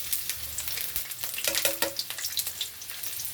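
Garlic frying in hot oil for a stir-fry of broccoli with beef, a steady close sizzle with crackling pops and a few stirring clinks.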